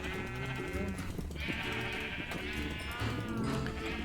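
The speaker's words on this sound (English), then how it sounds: "Get some more sheep over here." Sheep in the Minecraft video game bleat several times, overlapping wavering calls close by and fairly loud, forming a dense chorus with no speech over it.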